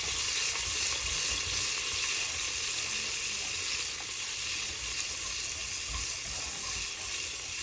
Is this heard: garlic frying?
yes